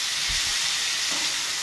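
Ivy gourd (donda kai) fries in a pan on low flame with a steady, soft sizzle and hiss, plus a couple of faint low thuds.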